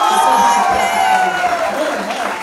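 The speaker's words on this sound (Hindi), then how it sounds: "यहाँ तापसी मैम आ गई है तो तालियों की गड़गड़ाहट हो जाए." A crowd at a film screening for blind audiences cheers loudly with whoops and shouting, a busy, sustained roar of voices mixed with excited calls.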